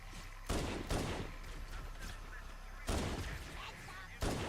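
Gunfire in the Halo: Combat Evolved Anniversary video game, loud bursts of shots recurring every second or two over a dense, continuous battle din.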